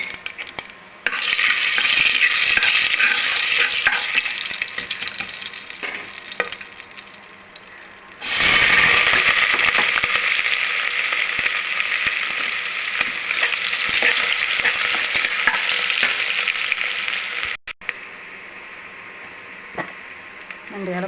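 Ingredients fry and get stirred in hot oil for a sprouted green gram kurma, with a loud steady sizzle and scraping stirs. The sizzle breaks off briefly midway, then surges back and continues until a sudden drop near the end. Speech is faint at most.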